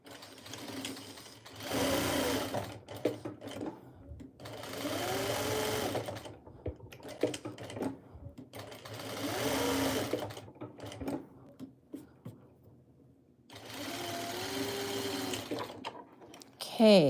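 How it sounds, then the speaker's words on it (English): A sewing machine stitches a quilt square with a quarter-inch seam in three or four sustained runs of steady whirring, separated by pauses with quiet handling noises. "Let's sew this all the way around at a 1/4 inch seam."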